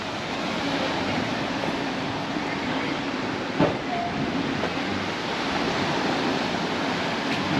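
Sea waves wash against the beach at Portals Nous, Mallorca, a broad, continuous roar of surf with a brief knock partway through and no talk.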